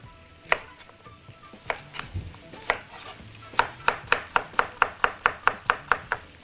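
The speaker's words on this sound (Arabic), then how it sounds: "وانا بقطع ليه كله مكعبات كبيره" Knife chopping carrots into large cubes on a board, a few scattered cuts and then a quickening run of sharp, even chops close by.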